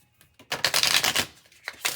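A deck of playing cards is riffle-shuffled close by, a brief dense flutter of snapping cards lasting under a second, then a couple of short taps as the deck is squared.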